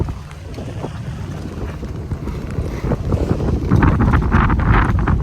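Strong wind buffets the microphone over steady sloshing water around a boat, growing louder toward the end.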